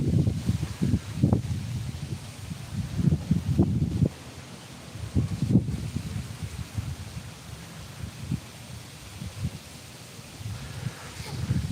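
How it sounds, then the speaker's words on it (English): Strong wind gusts buffet the microphone in low, uneven rumbling bursts that ease after a few seconds and then return, with faint rustling and no talk. "Boy, that wind is really picking up again. It is starting to blow super hard."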